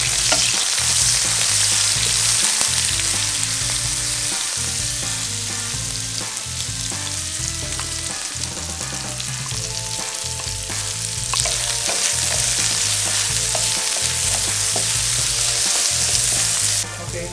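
Garlic, onion and celery frying in a pan for pancit guisado, a steady sizzle running unbroken for the whole stretch with rhythmic music playing underneath.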